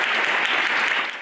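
Audience applause at a tribute recital for Ovidi Montllor in Olot, a steady dense clapping from a crowd that fills the whole moment, loud and continuous without voices.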